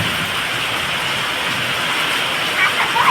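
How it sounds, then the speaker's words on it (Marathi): Heavy monsoon rain pouring steadily, a loud dense wash of noise with no break, thunder and lightning around. "खूप पाऊस पडतोय आणि बराच वेळ झाला हा पाऊस चालू आहे"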